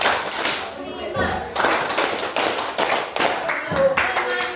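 A group of junior high students claps together in quick rhythmic bursts during a school religious program, with counted patterns of claps and short gaps between them, and a voice calling out between the bursts.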